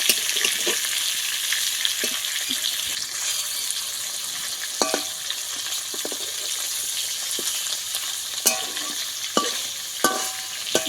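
Hilsa fish frying in oil in a pan for mustard hilsa gives a loud, steady close sizzle with scattered clinks and scrapes of stirring throughout.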